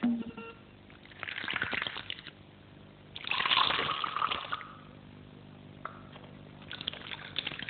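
Soda poured from a bottle into a flask, heard as two bursts of fizzing, gurgling liquid, the second louder and longer, with quieter handling noise and faint clicks in between.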